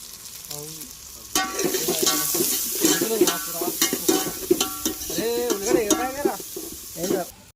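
Chopped onions with turmeric being stir-fried, a bright sizzle broken by repeated scraping and clattering strokes of a spoon against the pan, close and lively.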